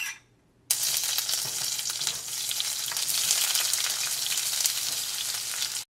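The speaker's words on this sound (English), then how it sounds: "So I'm just gonna go ahead and start frying stuff." Vegetables hitting a pan of hot olive and coconut oil, a loud close sizzle that bursts in suddenly after a quiet moment and keeps crackling steadily while being stirred.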